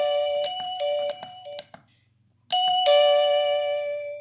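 Plug-and-play doorbell chime costing under $20, playing a bright melodic ding-dong tune of several tones close up, then a short pause before another chime rings out and lingers.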